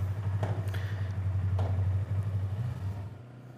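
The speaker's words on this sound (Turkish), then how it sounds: "Motoru ısıttık." A motorcycle engine idles after warming up on a cool 11-degree day in Gaziantep, a steady low throbbing rumble close by with a few light clattering taps, fading out at the very end.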